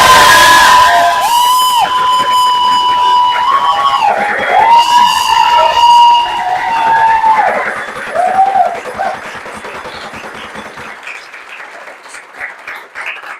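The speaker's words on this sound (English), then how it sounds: "give the biggest round of applause possible to your MCP candidates, Jana and Simon." Applause and cheering from a large audience at an election event for student organisation candidates, loud and sustained, fading over the last seconds, with a few shouts rising above the clapping.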